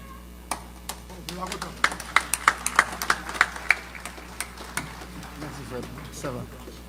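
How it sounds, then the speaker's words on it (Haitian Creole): Audience at a Haitian konpa concert by Klass and Orchestre Tropicana d'Haiti claps in scattered, fairly quiet bursts, sharp hand claps with a low murmur and some talk underneath. "sous vos applaudissements une nouvelle fois"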